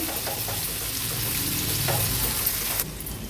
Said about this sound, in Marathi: तो ॲड करूया कांदा व्यवस्थित आता शिजवून घ्यायचा आहे गॅसची फ्लेम लोवर करते